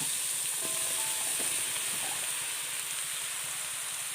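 Bitter gourd pieces frying in an oil-filled pan for a Kerala-style pavakka perattu, giving a steady, even sizzle and hiss throughout, with a few faint clinks near the start.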